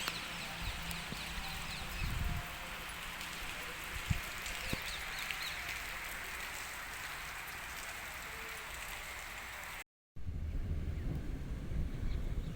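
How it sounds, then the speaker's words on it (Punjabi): Steady broadband wind rushing across the microphone outdoors by fields after rain, with occasional low buffeting gusts and a brief dropout near the end. "ਅੱਜ ਮੀਂਹ ਪਿਆ ਹਵਾ ਚੱਲ ਰਹੀ ਹੈ ਜੀ"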